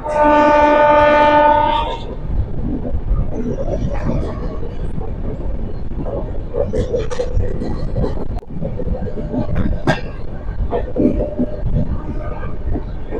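Purushottam Express pulling into Purulia junction, opening with a loud sustained horn blast before the rolling rumble and rhythmic clatter of the carriages, with scattered clanks and a voice or two under the running noise.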